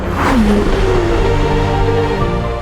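A Ferrari F8 Spider's V8 engine roars loudly as it accelerates hard, the pitch climbing and shifting close by with no voices.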